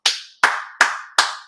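Four sharp, close hand claps in an even, deliberate rhythm, each crisp slap ringing briefly before the next, with silence between them.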